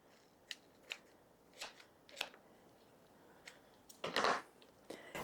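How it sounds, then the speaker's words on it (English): Kitchen shears snip through raw chicken skin on the legs and drumsticks in a quiet kitchen, a series of short, crisp close-up clicks and crunches spaced about a second apart, with a denser cluster of snips near the end. "So I just take some kitchen shears and I cut through the skin."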